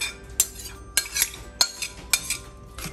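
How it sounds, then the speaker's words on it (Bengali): Cooked beef with its gravy is tipped and scraped from a pan into a pot of latka khichuri made with thin polao rice, giving about six sharp, close metal spoon clanks at irregular intervals over a soft wet rustle, with no talking. "এখন এই পর্যায়ে গিয়ে আমি সেই মাংসগুলো ঢেলে দিব"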